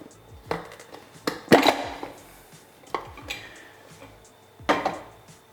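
A plastic film developing tank is picked up and handled, giving a few sharp, close clacks and knocks at irregular intervals against a quiet room.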